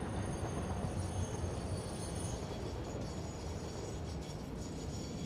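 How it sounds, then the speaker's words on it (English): A train in the factory-building video game Satisfactory rumbles in, a broad, steady low roar with faint high squeal, continuous and fairly loud with no talking. "See, the train's coming, isn't it?"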